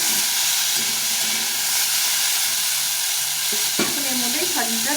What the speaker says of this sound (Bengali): এই আলু করলাটা একটু ভাজা ভাজি হয়ে গেছে